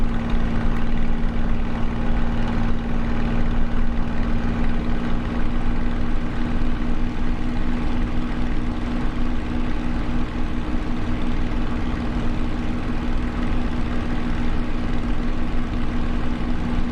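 A Spitfire's piston engine roars loud and constant in Microsoft Flight Simulator as the throttle eases back slightly, a dense steady drone with a humming tone and no voices.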